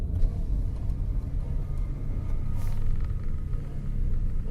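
A Toyota Vios driving along the road with a steady low rumble and road noise, a faint scraping, sheet-metal-like grind mixed into the drone, and a brief brighter swish midway.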